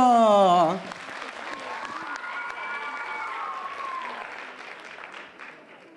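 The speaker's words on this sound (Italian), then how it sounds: "noi li accogliamo con un grande applauso" Crowd applause greeting young dancers taking the floor at a children's festival, rising as a soft, steady clatter of clapping after a brief loud musical tone at the start, then fading toward the end.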